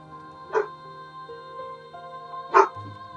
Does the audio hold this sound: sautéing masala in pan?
no